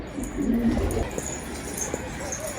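Caged pigeons of a rare breed give soft, low cooing calls close by, a few murmuring phrases over a faint background hum.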